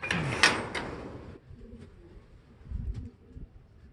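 A brief burst of wing flapping and soft bird sounds, then low, muffled coos of racing pigeons returning home, close by in a quiet space.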